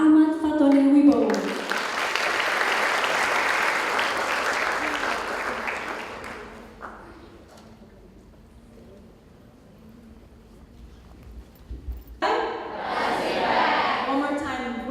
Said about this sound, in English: please give applause to Melati Waisen and Ahmad Fatoni Wibowo.